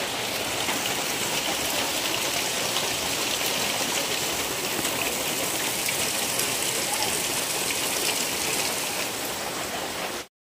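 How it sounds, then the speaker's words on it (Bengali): Heavy rain falling outside a home, a dense, unbroken roar of drops hitting surfaces that stays loud and even throughout before cutting off abruptly. "বাইরে যে হারে বৃষ্টি, মানে বলার নেই।"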